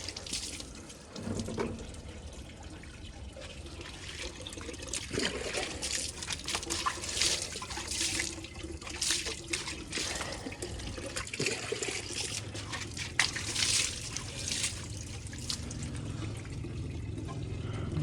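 Water pours and splashes steadily over a Royal Enfield Bullet motorcycle during a home wash, a long, continuous stretch with no one talking.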